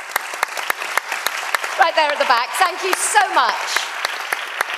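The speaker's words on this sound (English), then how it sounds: "Applause for Marko." A conference audience claps steadily with dense overlapping hand claps, moderately loud and unbroken, while someone speaks over the applause.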